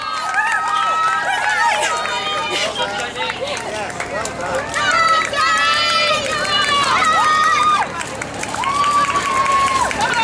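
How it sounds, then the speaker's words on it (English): At the Surrey Half marathon finish line, spectators cheer and clap for an arriving runner under a loud announcer talking over a public address, the crowd noise swelling in bursts throughout. "make some noise for this runner"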